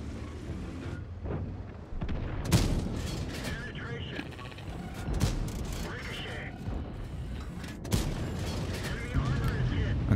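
Tank cannon blasts, artillery impacts and clanking mechanisms from the World of Tanks video game, with an AMX 13 105 in play, form a dense, busy din under continuous talking.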